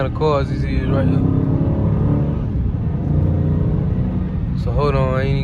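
Cars rolling past on a road heard from inside a Dodge Charger ScatPack, a loud continuous engine rumble with passing surges, and a voice breaking in at the start and end.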